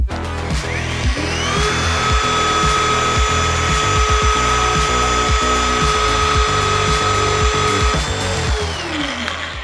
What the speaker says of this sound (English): Now we can start bending.